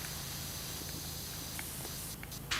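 Continuous broadband hiss of a pressure washer spraying in the video game Powerwash Simulator, steady and close, with faint clicks and small bumps near the end.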